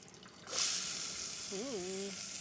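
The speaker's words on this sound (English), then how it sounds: "Love that sizzle." A sudden loud sizzle as onions hit hot chili oil, then a steady crackling fry, with a brief voice-like hum over it.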